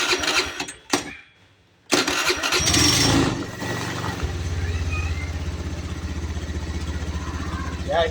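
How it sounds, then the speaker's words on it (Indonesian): A scooter with a CVT transmission, being serviced for a juddering clutch, cranks and fires up, then settles into a steady low idle with a rhythmic engine drone. A short burst of talk comes near the start. "Sekarang mesin kita hidupkan."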